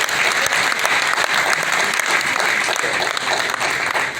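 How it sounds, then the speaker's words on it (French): Sustained, dense applause from an audience at a press conference, loud and steady throughout with a faint murmur of voices beneath the clapping. "Mais je vais quand même demander à mes amis d'applaudir pour Félix Wazekwa pour cette initiative."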